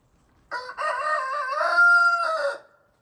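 A rooster crows once, a loud, close cock-a-doodle-doo rising and stretching out for about two seconds against quiet.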